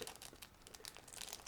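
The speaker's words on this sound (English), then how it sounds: "Next, you can hear I'm opening another plastic bag." A plastic bag from a 1/48 scale Miniart Thunderbolt Mk.II model kit crinkles and rustles as it is pulled open, a steady quiet crackle up close with no talking.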